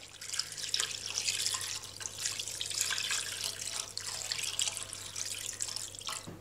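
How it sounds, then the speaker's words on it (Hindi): Water pours steadily into a cooking pot, six cups added while making mutton karahi, a continuous broadband splashing rush lasting the whole stretch, fairly close and alone with no voices. "1/4 टीस्पून और 6 कप पानी डाल रही हूँ इसमें।"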